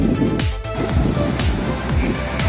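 Waves rolling onto the beach at Quy Nhon in Binh Dinh on a bright morning, a loud continuous surf roar with breaking swells and some wind.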